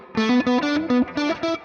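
Distorted electric guitar through a Mooer SD30i portable practice amp with a big mid boost, playing a short chord riff with a thick, mid-heavy tone, six punchy strummed hits with brief gaps, loud and close.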